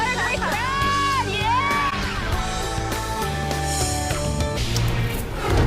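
Large live studio-audience crowd on a morning news show cheering, whooping and yelling, a loud sustained roar of voices throughout with bright shouts rising over it.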